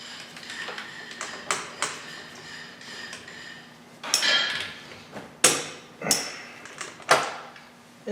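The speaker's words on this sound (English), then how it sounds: "grab our torque wrench and torque each wheel in a star pattern" A torque wrench tightens the wheels of a 2008 Dodge Caravan 3.3-liter V6 in a star pattern, making a close series of sharp clicks and metallic clunks that build to several louder snaps.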